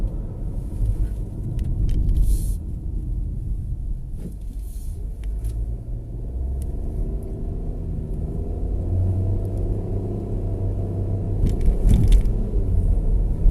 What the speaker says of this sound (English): for such a small car, it really does have some pull